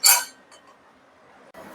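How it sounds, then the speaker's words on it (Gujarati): A stainless pressure cooker lid clinks shut with a bright metallic clank at the start, followed by quieter handling and a second faint clatter, for dal dhokli cooking at home in a Gujarati kitchen. "અને કુકરનું ઢાંકણ બંધ કરી લઈશું"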